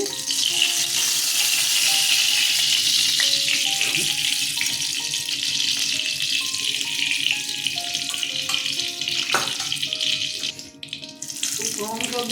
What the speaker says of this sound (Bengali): দিলাম ফোড়নে পাঁচ ফোড়ন দিয়ে দিলাম